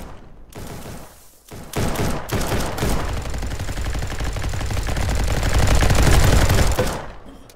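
Sustained automatic gunfire fills a Roblox RF Legacy shootout. A few loud early shots give way to a long, dense, rattling barrage that holds steady and then cuts off.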